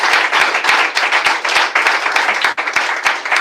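A church congregation claps in praise, loud dense clapping from many hands in a fast, steady rhythm filling the room, close and continuous with no talking on top.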